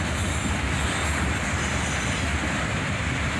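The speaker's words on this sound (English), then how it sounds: "An autorack train, northbound, led by a single" A northbound CSX autorack freight train led by a single ET44AH locomotive rolls past close by, a steady broadband rumble of wheels and cars with a faint high squeal above it.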